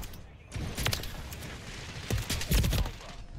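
Jak Devastators guns firing in Modern Warfare 3, a few short bursts of gunfire spread across the moment, moderately loud amid game noise, with faint talk underneath.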